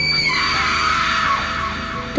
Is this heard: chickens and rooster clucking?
no